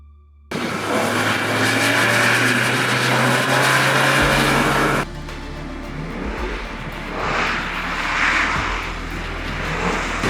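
Subaru Impreza GDB being driven and drifted, engine revving hard and loud close by, then a gear change and continued acceleration with some tire noise, no talk.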